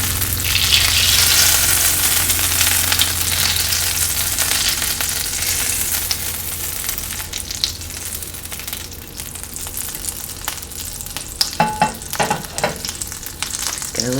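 Butter sizzles in a pan set for French toast, a loud continuous hiss that gradually softens, then a few light clinks and scrapes near the end. No one speaks.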